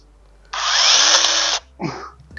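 A PRORUN PMCS120 20V lithium-ion cordless mini chainsaw whines steadily for about a second while cutting a small tree branch, then stops abruptly, followed by a brief clatter of falling wood.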